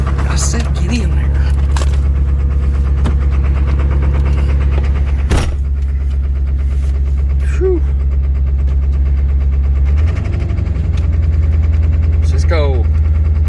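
Ford 7.3 diesel, cold and not plugged in, rumbles at a steady low idle for the length of the clip before the tone shifts up near the end, loud and close, with someone talking intermittently.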